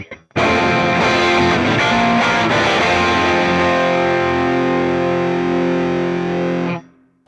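A Donner Hush-X Pro electric guitar on its JM model tone rings out as one loud, heavily distorted strum, with effects layered on. The chord sustains for several seconds and then cuts off abruptly.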